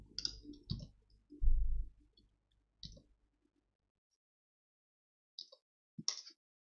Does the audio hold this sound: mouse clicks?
yes